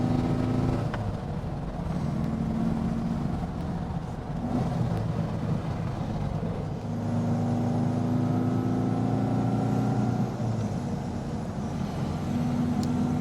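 A 1963 Porsche 356C sunroof coupe drives winding back roads, its engine note rising and falling through gear changes under constant road and wind noise, heard from inside the cabin.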